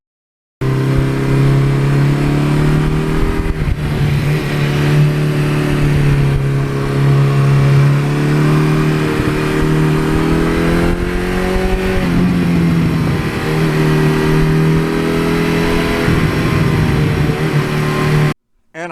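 A 1982 Suzuki GS1100E motorcycle engine runs loud and close for a long stretch. It idles steadily, and the revs rise and fall several times in smooth swells. No voices are heard.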